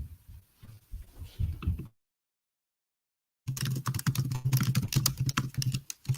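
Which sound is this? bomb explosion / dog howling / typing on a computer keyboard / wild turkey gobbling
typing on a computer keyboard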